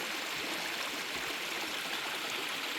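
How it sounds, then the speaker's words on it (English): A stream flows steadily near a waterfall on a Kentucky riding trail, a constant full rush of water close by with no talk over it. "Just gonna enjoy the water flow for a minute."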